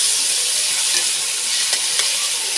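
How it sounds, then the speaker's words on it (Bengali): Ginger spice paste fries and is stirred in a pan, giving a loud, dense, steady sizzle with faint scraping strokes and no voices. "দিয়ে মশলাটাকে ভালো করে কষাতে হবে"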